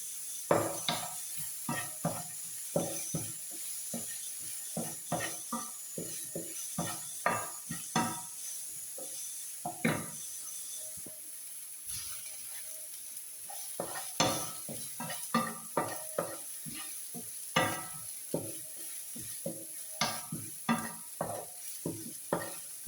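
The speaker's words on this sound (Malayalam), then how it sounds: "വഴന്ന് വരുന്നതിന് വേണ്ടിയിട്ട് ഇളക്കി കൊടുക്കും" A spoon stirs chickpea curry base sautéing in a pan, repeated scraping clinks against the metal at an uneven, steady pace over a faint sizzle, close and fairly quiet.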